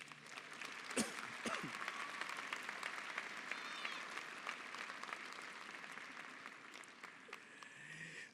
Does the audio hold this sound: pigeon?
no